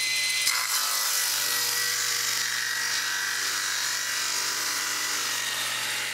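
A table saw resaws wood stock with a steady, loud, continuous whine and a constant motor hum, cutting as far as the blade reaches from one side, with no talk and a brief louder bite near the start.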